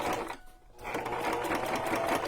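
A sewing machine runs a steady, fast stitching whir while sewing a junk journal cover, pausing briefly near the start before carrying on, loud and close.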